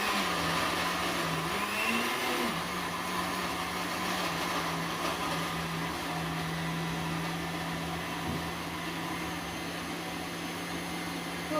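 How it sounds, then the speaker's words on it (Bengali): An electric blender grinds a large batch of ginger and garlic with water into paste, giving a steady, loud motor whine that runs unbroken from start to finish with a brief pitch dip near the start. "ব্লেন্ডার করলে কিন্তু পানি দেওয়া লাগে, পানি ছাড়া কিন্তু ব্লেন্ডার হবে না। আর এটা কিন্তু এখন মেশিনটা চালাই দিব।"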